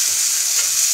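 Steady hissing sizzle of eggplant frying in a pan, constant and close, with no voices.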